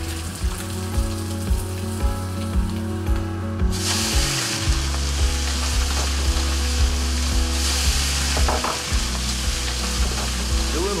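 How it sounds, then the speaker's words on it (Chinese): Stir-frying in a very hot oiled wok, a loud steady sizzle that swells sharply partway through as ingredients hit the oil, with a rhythmic scraping and tossing of the spatula against the metal repeating throughout, no voices. "高油温下锅，下锅后三十秒内必须收锅，否则油一冒出来，整个菜就塌了"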